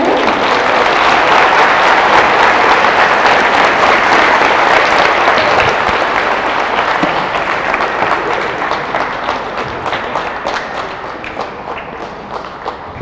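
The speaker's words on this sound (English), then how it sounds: "I would like for you to give a round of applause to" Loud applause from a middle school audience at an assembly, dense close clapping with some thumps and taps mixed in, gradually dying down toward the end.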